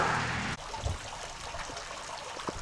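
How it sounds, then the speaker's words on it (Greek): Water trickles and rushes steadily, with a soft hollow splashing, as it runs down into a sewer drain nearby. "Ακούγεται και ο ήχος του νερού που τρέχει στον υπόνομο"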